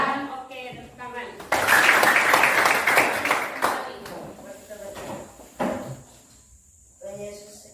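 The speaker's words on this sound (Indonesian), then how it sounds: "Oke, tepuk tangan." Applause from a seated group in an Indonesian classroom or training session, a burst of clapping lasting about two seconds that follows a spoken voice and then fades, with scattered knocks and talk afterward.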